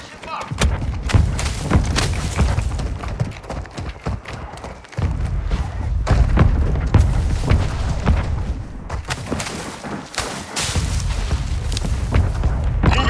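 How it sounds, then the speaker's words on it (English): Mortar strike explosions in Call of Duty Warzone 2.0, a string of heavy booming thuds landing one after another at close range over a rumbling low background, with a voice speaking in places. "Friendly mortar strike on the way"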